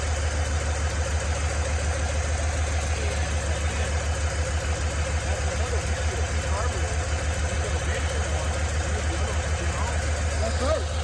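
A 1937 Buick Century engine idles in a shop, a steady close, loud rumble with an even rhythmic pulse throughout, and people talk faintly over it.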